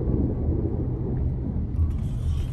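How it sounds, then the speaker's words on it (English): Low, steady thunder rolls through a severe thunderstorm with heavy rain in Big Bear, a faint, continuous deep rumble with no talking. "You hear the thunder?"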